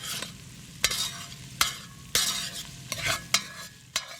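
Food frying and sizzling in a pan with a steady hiss, broken up by several sharp scraping or stirring clatters spaced through the stretch; no one speaks.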